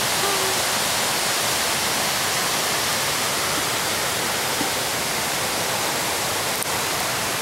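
Waterfall in Laos, heard as a steady, broadband rushing roar that fills the space evenly and continuously without pause, with no voices.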